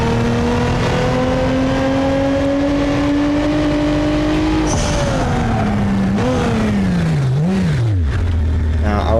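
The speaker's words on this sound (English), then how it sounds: "This has a generic V6 engine." Generic V6 engine of the NASCAR Wannabe car in BeamNG.drive, revving steadily upward in a sustained rising drone, then dropping and surging through several uneven revs and falls, loud and close throughout.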